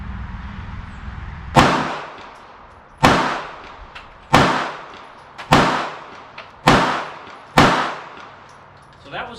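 Six sharp pistol shots from a compact .380 handgun ring out at a 25-yard target on an outdoor range, evenly spaced about a second and a half apart, each loud crack trailing off quickly.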